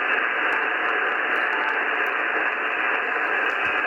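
A Yaesu FT-710 receiving SSB with digital noise reduction at level 5 puts out a steady, hissy band-limited radio noise, a constant close wash with no clear voice coming through.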